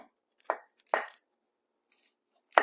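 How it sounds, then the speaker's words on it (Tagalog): A knife works around onions to peel off thin skins, giving a few isolated, close, crisp scraping cuts separated by near silence. "To make sure hindi masyado makapal ang pagkakabalat dahil mahal na ng sibuyas po ngayon"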